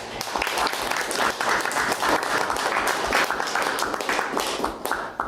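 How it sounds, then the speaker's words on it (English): A room of attendees at a Node.js developer meetup breaks into a dense, lively round of applause that stays loud and even for several seconds before easing off at the end. "let's have one more round of applause"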